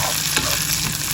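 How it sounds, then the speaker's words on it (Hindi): Onion and green chillies frying in oil for home-style dal tadka, a steady close sizzle with soft stirring scrapes running through the short stretch, no voices. "अब इसमें आ गया फ्रेंड्स हरी मिर्च। तो साथ में अच्छे से फ्राई कर लेंगे"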